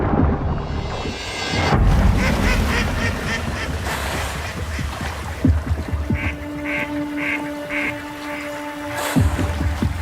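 Mallard ducks quack outdoors in a garden setting, giving a series of repeated nasal quacks in a short run amid other bird calls and background ambience, at moderate distance.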